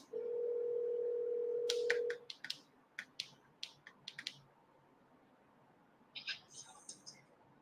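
A telephone dial tone holds steady for about two seconds, then breaks into a quick run of separate dialing tones or key beeps. A few higher beeps follow near the end. The sounds come through clearly with no voices.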